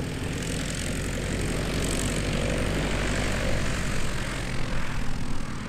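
Light airplane coming in to land at EAA AirVenture Oshkosh 2019, runway 36 left, its propeller engine droning steadily and fairly loud throughout against broad outdoor rumble, with no talk.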